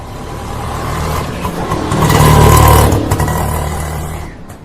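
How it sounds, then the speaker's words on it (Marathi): A tempo vehicle's engine drones nearby, swelling louder as it passes and then fading away over a few seconds. "Look at that vehicle."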